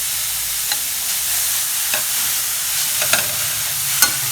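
Grated carrot sautés in a pan with a soft, steady sizzle, broken by a few light spatula taps as it is stirred, and no voices.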